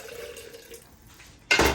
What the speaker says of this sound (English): Pour that broth in here.